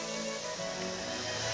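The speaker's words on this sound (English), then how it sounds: "It's a bit pouring rain." Pouring rain falls in a steady, dense hiss on surfaces outdoors, faint and unbroken throughout the short stretch.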